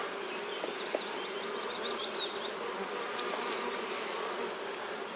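Honey bees working in a beehive, producing a dense, steady buzzing drone from many insects close by, with faint shifts in pitch and no voices.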